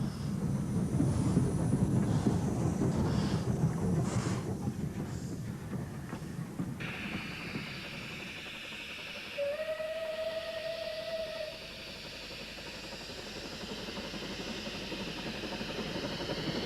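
A Bulleid Light Pacific steam locomotive works a train with a heavy rumbling roar that fades, then a single steady whistle blast rings out for about two seconds over a quieter rolling rumble.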